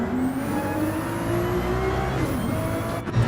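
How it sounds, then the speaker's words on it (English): Porsche 296 GT3 race car in a racing game, engine note rising and dropping through gear shifts, loud and continuous with a brief bump near the end, no voices. "A very, very intense gear shifting"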